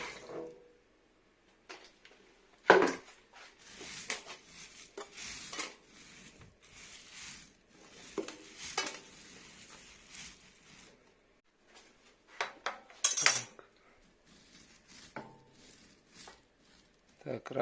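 Wood pellets pour in rattling, gritty bursts into a boiler in a private house and are scraped level, with scattered clinks and pauses while someone talks intermittently nearby.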